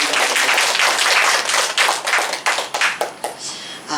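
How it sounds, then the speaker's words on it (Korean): Applause from a church presbytery assembly audience giving thanks: a dense, close wash of many hands clapping that holds steady, then thins into scattered claps and fades out near the end. "하나님께 다시 한번 우리 감사의 박수만 드립니다"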